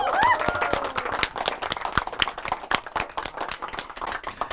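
Audience clapping at a Maharashtra Day Marathi school show, a dense, lively patter of many hands that carries on steadily throughout, with faint voices mixed in.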